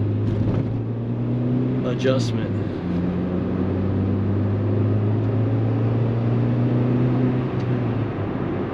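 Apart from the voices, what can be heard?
Acura Integra engine while driving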